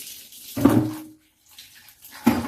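Water sloshes and splashes in a basin in two short bursts as susumba berries are put in, separated by quiet moments with faint trickling.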